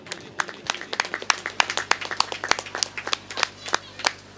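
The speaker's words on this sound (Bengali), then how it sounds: "একটু জোরে হাততালি শ্রী রাজু পালের জন্য" An audience at a Durga Puja event applauds a clay artist being honored on stage, a dense burst of close, steady handclaps lasting throughout with no talking.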